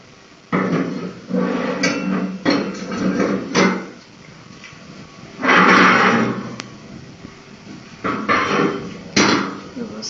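Metal crowd control barrier panel set down onto its feet, giving several clanking knocks and scrapes at irregular intervals, close and fairly loud, with a person talking in between.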